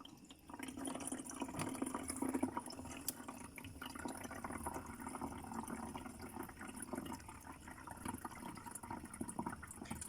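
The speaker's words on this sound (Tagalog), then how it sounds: "Lalagyan ko siya ng tubig." Water is poured into the tank of an automatic clothes iron, giving a continuous soft trickling, gurgling fill that runs steadily at low level with no talking.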